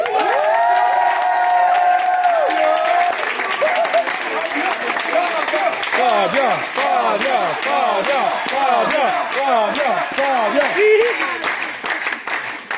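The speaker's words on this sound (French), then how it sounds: "J'aimerais qu'on applaudisse encore une fois Fabien au son" A concert audience applauds and cheers for the sound engineer: dense rhythmic clapping with loud shouts and whoops from many voices, the crowd noise close and sustained throughout.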